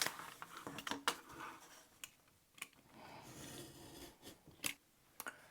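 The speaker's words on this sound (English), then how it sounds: "I'm cutting out the whole stamp now." Scissors cut out a homemade paper stamp decorated with glitter glue, giving faint, close, irregular snips and clicks separated by quiet pauses.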